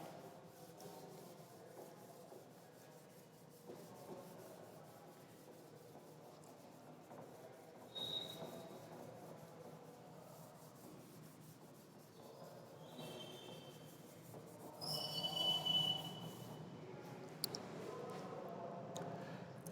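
A board being rubbed clean during a classroom lesson, a long soft scraping and wiping sound that swells and fades in strokes, fairly quiet with no speech.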